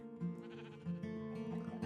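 Sheep bleating in the Minecraft video game, several short nasal bleats repeating in quick succession at moderate volume.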